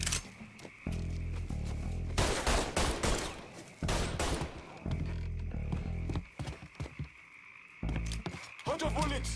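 Video game Mafia 3 gunfire rings out in loud, choppy bursts, some rapid like automatic fire, interleaved with short gaps, game effects and shouted voices in the background.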